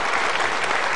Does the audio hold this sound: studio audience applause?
yes